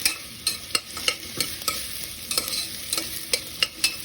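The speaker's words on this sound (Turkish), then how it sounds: "Bu şekilde soğanlarımı hafif öldüreceğim" Onions and four cloves of garlic sizzling gently in a pan for a zucchini soup, with repeated sharp clicks and scrapes of a spoon stirring at an uneven rhythm, close and fairly clear.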